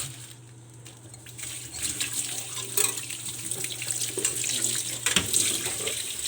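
Running tap water splashes into a sink as raw shrimp are rinsed by hand, a continuous gushing stream that grows fuller and louder midway, with occasional clinks and shifts in the flow.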